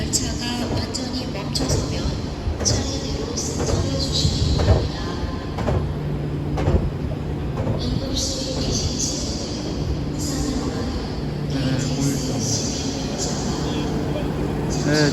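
A KTX high-speed train rumbles arriving at Seoul Station, low steady hum with periodic clunks and hisses, busy platform noise and voices throughout.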